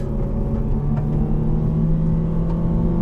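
A 2013 Nissan Juke Nismo AWD engine held at a steady rev near 2,200 RPM before pulling away, a loud close droning hum with a low rumble and no speech.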